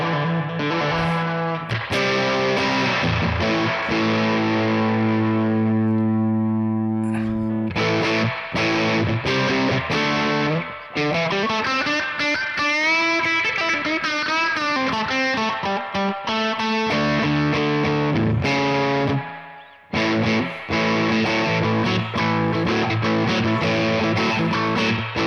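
Heavily distorted electric guitar through a TC Electronic Ampworx Combo Deluxe 65' preamp with boosted mids for an 80s tone, sustained chords and riffs, loud and continuous with brief gaps, thick, saturated, with a slight chorus shimmer.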